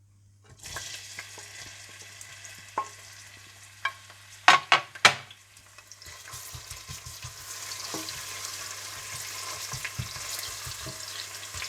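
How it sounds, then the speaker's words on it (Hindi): A few loud clinks and clatters in a quiet kitchen give way to a steady, close sizzle as onions fry in hot desi ghee for jaggery rice. "इसके बाद दूसरी तरफ आप देसी घी गर्म करके इसमें प्याज डालकर हल्का सा गोल्डन ब्राउन कर लें।"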